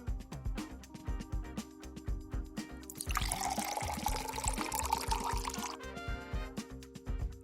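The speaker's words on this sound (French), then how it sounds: "Verse une tasse et demie d'eau dans la première bouteille." Water poured from a measuring cup into a plastic bottle, a splashing, gurgling stream that runs for about three seconds in the middle, over a steady background of rhythmic music.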